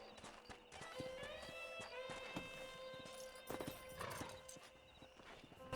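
Horse hooves clip-clopping at a walk in the game Red Dead Redemption, a steady close rhythm of hoofbeats with a brief whinny, under a sustained music-like tone.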